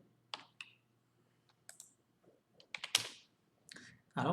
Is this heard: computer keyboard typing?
yes